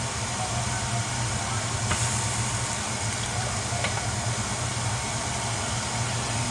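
Water hits a hot, seasoned cast iron pan and sends up a steady, continuous hiss of steam, close by and unbroken throughout, with a low background hum.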